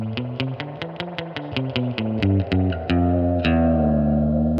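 Clean-toned plucked notes drenched in a cavernous reverb, each note blooming and hanging into a long wash that carries into a sustained chord at the end.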